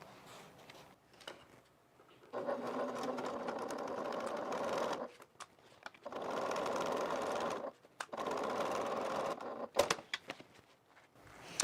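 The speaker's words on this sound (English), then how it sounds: "So I'm just going to put some Wonder Clips on here. We're going to stitch." A sewing machine stitches the clipped-together sides of a faux leather bag, running in three steady bursts separated by short pauses, close and fairly loud, with light handling clicks between runs.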